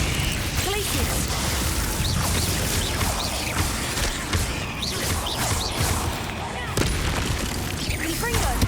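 Rapid Descendo, Confringo, Bombarda and other combat spells fire off in the Hogwarts Legacy video game, producing a dense barrage of magical blasts and crashes under a voice shouting spell names.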